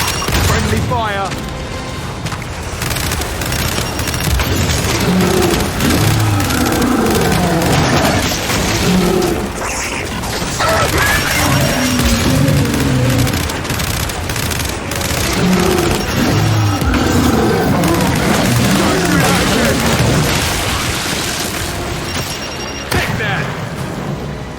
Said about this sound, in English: Does every carrier burst apart like that?